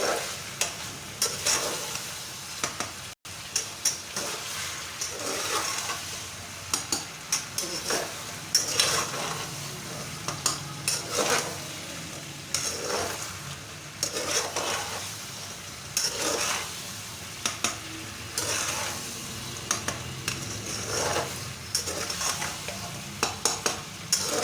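Aloo potatoes fry in a pan over a steady medium flame, with sizzling that holds throughout and repeated scraping stirs of a utensil against the pan at an irregular rhythm, close up and with no talking.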